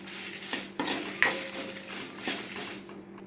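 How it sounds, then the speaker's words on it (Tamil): Dry red chillies and coriander seeds being sauteed in a pan for a village-style mutton curry, heard as a steady scrape and clatter of a metal spoon stirring, with soft sizzling and occasional sharper knocks. "இது நல்லா வதக்கிக்கலாம்"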